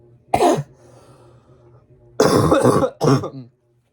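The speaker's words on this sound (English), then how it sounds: "why'd I have to cough that much?" Three sharp coughs close to the mic: one short burst, a pause, then a longer rough fit followed by a final cough, with quiet background hum between.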